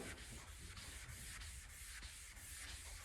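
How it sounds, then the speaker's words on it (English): Dry guide coat powder is rubbed onto a car body panel of a 1983 Mk1 Golf GTI under restoration, making a faint, rhythmic back-and-forth scrubbing at about three strokes per second, with no talking. "So dry guide is basically a powder that you put on this, and on the body there you rub this on here like so"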